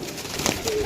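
A pigeon coos once, briefly and close, in a loft of racing pigeons, over low background noise.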